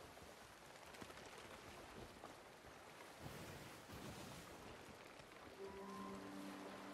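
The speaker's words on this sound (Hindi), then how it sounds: "अबे ये पानी का तूफान आ जा रहा है," Stormy ocean waves in the pirate game Sea of Thieves, a dense, loud wash of surf and wind roaring continuously around a boat, with rain-like hiss and no voices.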